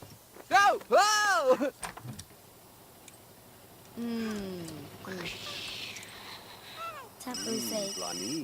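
A telephone rings in The Sims 3, with a short electronic ring near the end that follows chirpy game sounds and a brief voice.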